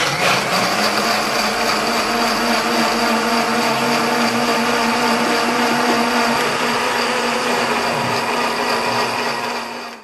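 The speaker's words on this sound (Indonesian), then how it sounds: "Usai di-blender dan tercampur dengan air, hasilnya langsung dimasukkan ke dalam ember besar dan kemudian dibuang ke lubang toilet." An electric blender runs continuously at full power, crushing seized narcotics mixed with water during a police destruction of drug evidence. The loud, steady whir holds for about ten seconds before winding down at the end.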